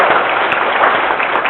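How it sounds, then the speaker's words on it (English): An audience clapping together in agreement, a dense, steady patter of many hands, fairly loud and continuous for a brief moment with no voices over it. "clap if you agree with the statement"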